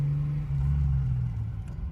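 An RB20DET-swapped Datsun 240z rumbles with a deep, steady engine drone close by, holding a low throbbing note that eases off slightly as the clutch goes in for a gear change.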